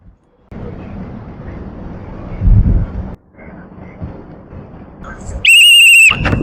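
A police training whistle gives a single loud, shrill blast near the end, following a stretch of dull background rumble and noise.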